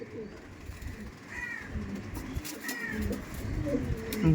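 Soft cooing calls from pigeons in a keeper's loft, several short rising coos repeating over a busy background of rustling and low ambient noise, fairly close.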